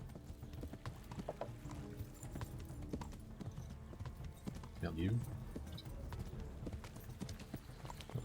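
Horse hooves clop at a steady gallop through the whole stretch in the medieval game Kingdom Come: Deliverance, a fast rhythmic beat under someone talking in French, with a brief whinny in the middle.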